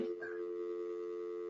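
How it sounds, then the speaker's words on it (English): A phone sounds during a town planning board meeting, a quiet, steady electronic tone held evenly with little variation. "Is anyone else carrying a ringtone?"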